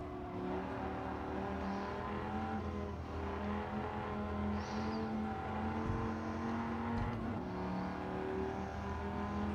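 A Dodge Viper GTS race car engine in Gran Turismo 7 on Tokyo Expressway holds a steady, droning roar with sustained harmonic whine, fairly faint and continuous throughout, with no voices.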